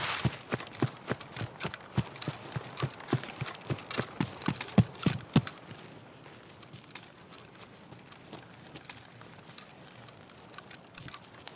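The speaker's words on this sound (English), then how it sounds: "I heard footsteps." Footsteps in the shooter Escape from Tarkov, a steady run of clear, evenly spaced thuds close by for several seconds before they fade to a quiet background.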